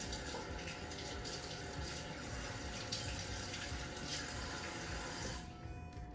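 Tap water running steadily into a kitchen sink while hands are washed, a continuous close splashing hiss that tapers off near the end.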